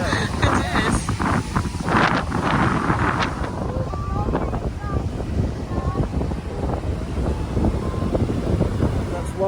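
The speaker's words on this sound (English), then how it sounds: "And it's windy as hell." Strong gusting wind buffets the microphone in a continuous low roar at Tanjung Aan beach on Lombok, Indonesia, with faint voices underneath.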